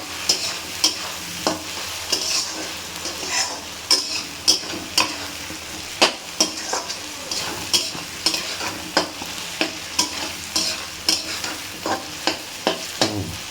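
Shrimp stir-fried in a pan with banana flower, a continuous sizzle punctuated by regular spatula scrapes and taps about once a second, close and fairly loud with no talking.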